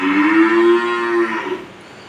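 Large Holstein Friesian cow, over five feet tall and kept for sale, gives one long, loud moo close by, fading toward the end with no talk.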